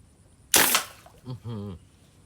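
A single sharp snap of a slingshot shot at a target 12 meters away, loud and close, followed by a short distant thud and brief speech.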